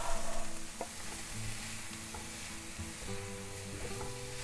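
Chopped tomatoes hit a hot pan of vegetables for a quick egg-and-vegetable breakfast, a steady close sizzle with occasional stirring scrapes and clinks of a utensil against the pan.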